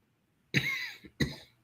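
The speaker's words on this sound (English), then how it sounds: "I'm just coughing" Two short, close coughs separated by a brief pause, fairly loud against near silence.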